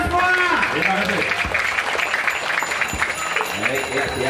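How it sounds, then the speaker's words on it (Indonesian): A crowd at an outdoor first-anniversary celebration for a clinic applauds, a dense wash of clapping lasting several seconds with voices mixed in. "Mohon tepuk tangan dulu semua"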